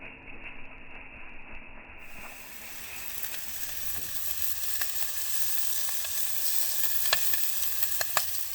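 Sausages frying over an outdoor campfire on a snowy winter camping trip, giving a steady, soft crackling sizzle with occasional sharper pops and hisses throughout.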